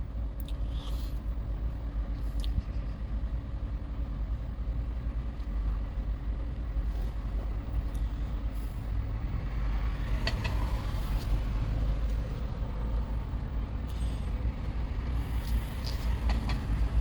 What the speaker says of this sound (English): Still running on gas because the battery is low